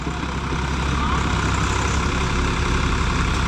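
A tractor engine runs steadily on a hillside farm in Jammu, a loud low rumble that holds continuous and close for the whole stretch.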